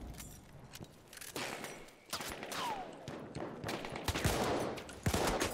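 Rapid bursts of gunfire in the multiplayer shooter Battlefield 1, scattered shots and automatic volleys at moderate loudness that build toward the end, with no talk over them.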